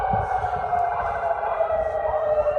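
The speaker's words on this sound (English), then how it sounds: "the sirens are now blaring here" A loud, steady wailing curfew siren fills the air in Amman, Jordan, droning continuously over low rumbling background noise.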